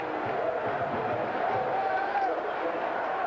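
Large stadium crowd at Scott Stadium in Charlottesville during a 1990 college football game, a steady distant roar and murmur filling the background under a commentator's voice.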